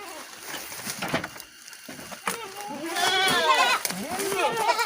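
A young male Etawa goat bleats in long, wavering, quavering cries that grow louder toward the end, heard close by while people talk nearby.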